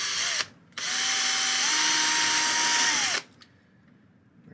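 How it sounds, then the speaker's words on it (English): A power drill bores out the trunk of a model tree kit: a brief whir, a short gap, then a steady, loud high-pitched drilling run of about two and a half seconds that cuts off cleanly. "So we're going to drill this out."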